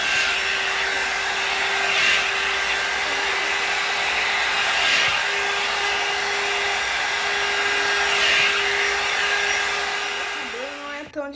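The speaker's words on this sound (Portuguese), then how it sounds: "Bora secar com o meu secador." A hair dryer blows steadily at close range, a loud continuous whoosh with a faint whine, its airflow swelling slightly now and then before cutting off.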